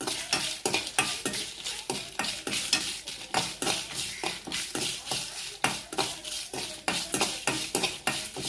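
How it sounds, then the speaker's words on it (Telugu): Dried red chillies roast in a pan under a constant dry sizzle, with quick regular stirring scrapes and taps of a utensil on the metal throughout, close and loud. "ఇప్పుడు తర్వాత ఎండుమిర్చి వేసుకుంటున్నాం."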